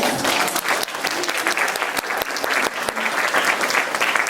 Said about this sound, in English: we really should give her a really big applause